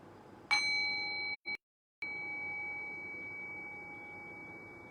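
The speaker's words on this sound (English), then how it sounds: "anytime the meditation bell is rung, you come back to the present moment." A meditation singing bowl bell struck once, ringing with a clear sustained tone and bright overtones that hold steady, briefly cut off, then resume and linger over quiet background hiss.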